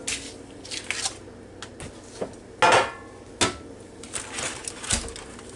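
A metal roasting pan for turkey legs is handled, producing scattered clanks, scrapes and knocks at irregular intervals, one louder clatter standing out, with no talking.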